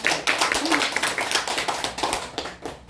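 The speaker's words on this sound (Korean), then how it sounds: "뜨거운 박수로 환영합니다." An audience in a church hall claps steadily and warmly, a dense burst of applause from many hands welcoming a guest lecturer, loud and close throughout.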